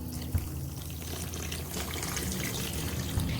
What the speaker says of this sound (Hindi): चीनी डालेंगे, इलायची पाउडर डालेंगे और पानी डाल देंगे।